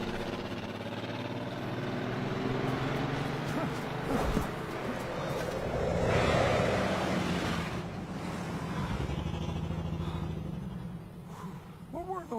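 Car engines rumble past in a continuous broad drone that rises and falls as vehicles go by, with a soft swell in the middle and a few faint higher tones near the end.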